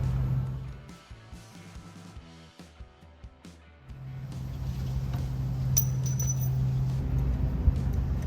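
An RV storage lock cylinder is slid out with a series of small metallic clicks and scrapes, close and fairly quiet, followed by a low rumbling hum of background noise and a few faint jingling taps.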